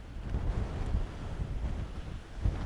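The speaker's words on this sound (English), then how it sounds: "it's proper windy tonight" Strong Storm Callum wind at night buffets a microphone fitted with a fluffy windshield in a continuous low roar, with irregular gusts thumping louder throughout.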